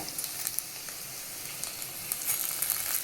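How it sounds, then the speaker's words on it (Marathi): Tomatoes go into onions that are frying in oil, making a constant close sizzle and crackle with small pops and no voices. "कांदा लाल झालेला आहे त्याच्यामध्ये आपण आता टोमॅटो टाकून घेऊया."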